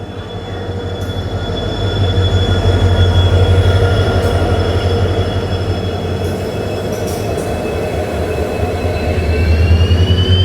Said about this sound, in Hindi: ट्विन डीजल लोकोमोटिव के साथ